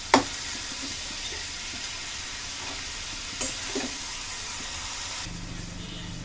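A spoon of turmeric is stirred into frying cabbage in a pan, with a steady, even sizzle throughout and a few soft scraping knocks of the spoon.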